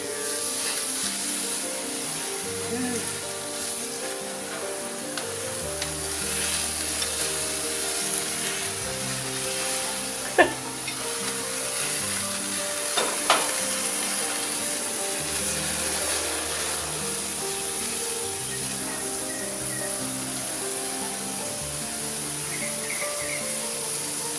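Salmon skewers sizzle on a hot grill, giving a steady, quiet hiss that runs throughout with a few brief sharper crackles partway through.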